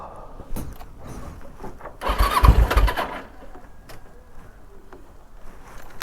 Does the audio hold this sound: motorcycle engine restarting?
yes